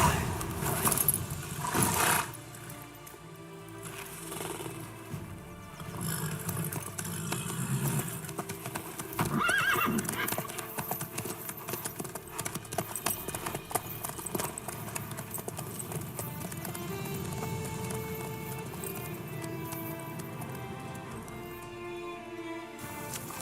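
Horse hooves clip-clop steadily through The Witcher 3, a continuous rhythmic trot layered under game music and ambient sound for most of the stretch, fairly loud and close.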